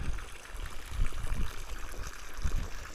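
Water from a well tap running and splashing steadily at close range, a soft continuous gurgle and trickle with occasional low splashes, no voices.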